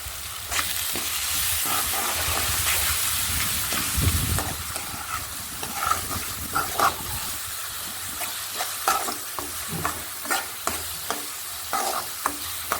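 Ground green chillies sizzle in a hot pan while a spoon stirs them through, a steady frying hiss at first, then repeated scraping strokes close by.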